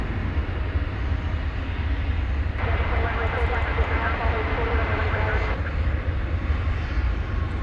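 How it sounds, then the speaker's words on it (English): American Airlines Boeing 737 MAX 8 jet arriving at Dallas Fort Worth airport after dark, a steady broad engine roar that swells in the middle, heard at moderate distance with talk over it. "We got a MAX 8 coming in from"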